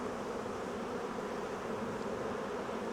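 Dense, steady buzzing of many honey bees around a hive during beekeeping work, a continuous close swarm drone with no pauses or talk.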